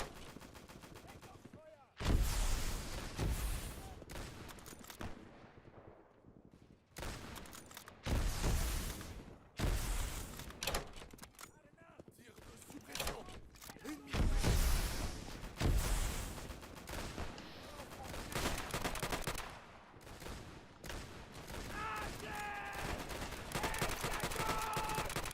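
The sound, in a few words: machine gun fire in the video game Easy Red 2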